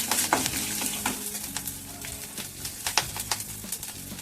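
Green chillies frying in hot oil with cumin and mustard seeds, a close crackling sizzle with sharp popping bursts and some stirring, no talking.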